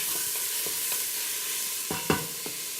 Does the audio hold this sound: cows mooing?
no